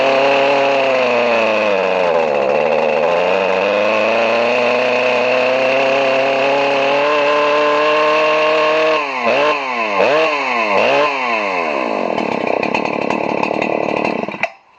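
A Husqvarna 394 chainsaw fitted with a 395 cylinder runs steadily and loud at close range during carburetor adjustment, its engine note dipping and rising, then blipping through several quick revs before cutting off abruptly.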